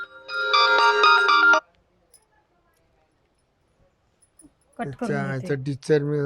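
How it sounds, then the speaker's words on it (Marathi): A phone ringtone plays a bright melodic tune for about a second and a half, then stops; after a pause, a person starts talking. "थांबा कॉल आलाय"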